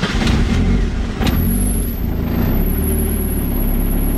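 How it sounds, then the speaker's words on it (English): A Mazda Miata, fitted with a new high-power fuel system, cranks and fires, then runs at a loud, steady idle close by, with a high belt squeal whining over the engine. "Let's just turn the key, huh? Wow, it fired right up."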